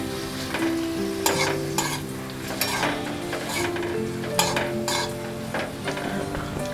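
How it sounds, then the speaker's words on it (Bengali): Lychees frying with a little turmeric in a pan, a steady loud sizzle broken by repeated scrapes and clinks of a spoon stirring against the metal. "হলুদ দিয়ে আমি ভালো করে একটু ভেজে নিলাম।"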